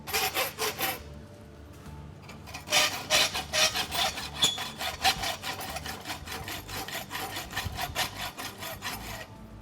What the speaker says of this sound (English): Nice we rasp our wedge.